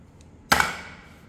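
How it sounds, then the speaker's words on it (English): A light plastic shower handrail with a metallic coating gives a single sharp, hollow tap when handled, close and brief, followed by a short fading ring in a quiet room. "this handrail here, while it looks like metallic, but it actually is simply just plastic. You can hear it."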